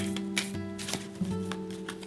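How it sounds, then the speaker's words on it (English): A deck of cards is shuffled close up in a quiet room, with soft riffling and sliding bursts recurring in an irregular rhythm over a steady low musical drone. "Okay, so I'm shuffling."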